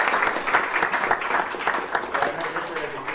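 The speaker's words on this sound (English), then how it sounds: "If you would give Richard one more big round of applause." Enthusiastic applause from a sizable audience, dense and continuous clapping throughout, with a few voices mixed in.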